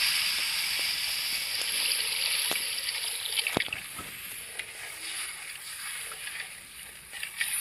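Water is poured into a sizzling spice paste for a silver carp fish curry, a splashing pour over hissing oil, with a few sharp clinks of a utensil and soft movement near the pan.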